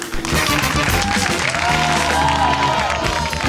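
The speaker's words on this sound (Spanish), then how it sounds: "aplausos." Studio audience applause and cheering on a Spanish-language TV show, loud dense clapping with crowd voices and some tonal sound running underneath, sustained throughout.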